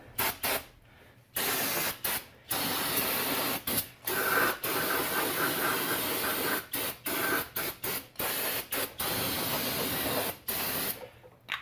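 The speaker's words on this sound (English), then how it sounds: "So next what we're gonna do, we can get some brake clean." Repeated bursts of aerosol brake cleaner spray onto rear brake parts of a 2004 Oldsmobile, loud hissing blasts broken by short pauses, with no talking.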